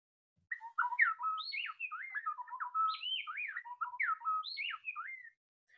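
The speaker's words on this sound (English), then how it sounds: "That's two birds singing back and forth with each other." Clear, rapid whistled bird notes alternate back and forth in an unbroken duet, close and bright against silence, lasting several seconds.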